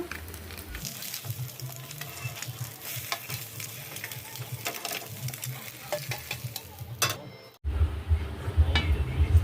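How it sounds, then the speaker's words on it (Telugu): Omelette with a little chili powder and salt frying in a pan, a continuous soft sizzle with light stirring and utensil scrapes, then a louder, fuller sizzle near the end. "కొంచెం లైట్గా కారం సాల్ట్ వేసుకుని ఆమ్లెట్ వేసుకుంటున్నాను"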